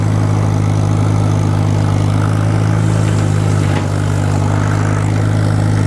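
A tractor with a 5-foot bush hog mower runs loud and steady at a constant engine drone, alone and close by, cutting thick overgrown brush.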